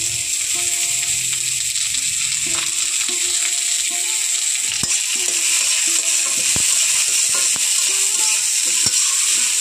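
Garlic added to onion and carrot already frying in a hot wok, giving a steady, close sizzle with scattered clicks and scrapes of stirring throughout, no talking.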